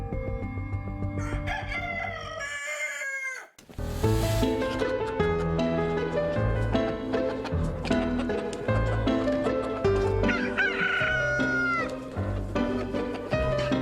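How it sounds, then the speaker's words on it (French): Chickens cluck and a rooster crows in a tea plantation flock, loud and busy overlapping calls with a brief lull partway through before the clamor resumes. "La poule apporte une grande aide dans la culture du thé biologique."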